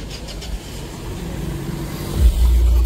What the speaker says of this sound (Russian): машин много, еще больше.